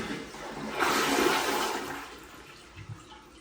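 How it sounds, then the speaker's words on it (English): A single residential toilet running its number 1 (light) flush in a newly remodeled bathroom: a sudden loud rush of water that swells, then drains away and tapers into a quieter trickle, with no talking. "So this is the number 1 flush."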